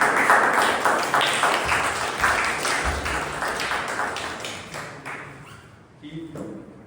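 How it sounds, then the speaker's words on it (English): Applause from a Toastmasters club meeting audience greeting a table topics speaker, dense clapping filling the room and slowly fading over several seconds before a voice begins speaking at the end. "please give a round of applause"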